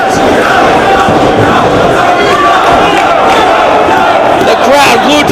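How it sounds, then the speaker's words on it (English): Loud, dense crowd noise from a packed wrestling arena at an ROH title match featuring Samoa Joe, continuous roaring and chanting voices close and overwhelming with no pauses. "The crowd glued to the ring, chanting for Joe."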